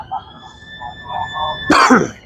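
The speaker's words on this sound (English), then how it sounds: "Why do I keep coughing?" A single harsh cough bursts out near the end, following quiet muffled talk and a faint steady tone in the background.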